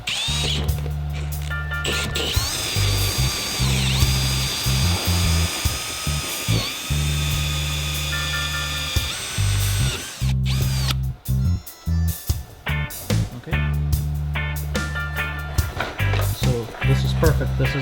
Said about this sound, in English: So the hole saw will go right into the inner circle.